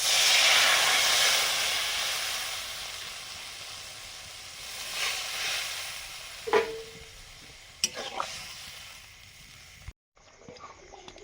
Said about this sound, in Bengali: জিরে ধনে বাটা, জল দিয়ে দিচ্ছি।